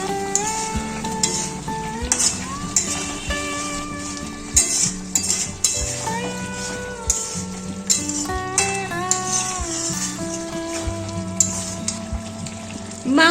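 Chicken for pulao biryani sizzles in a pan while a spoon scrapes and clinks against the metal, stirring in short irregular strokes over a steady frying hiss.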